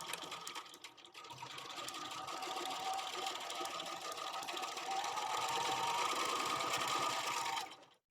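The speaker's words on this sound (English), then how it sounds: "go forward a couple, then go back, and then sew all the way down" Domestic sewing machine running a straight seam on a duffle bag, a close, rapid mechanical whir that builds and holds for several seconds before stopping abruptly.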